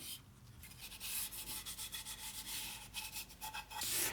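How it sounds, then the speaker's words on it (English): Oil-based walnut stain rubbed by hand with a cloth onto alder wood for a turkey fan mount, a steady close scrubbing and swishing in repeated back-and-forth strokes with no talk. "Now I'm rubbing on an oil-based stain."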